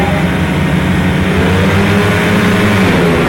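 Grasstrack solo motorcycles roar away together at a race start, a loud, continuous engine drone with rising rumble and no pauses, close and dense throughout.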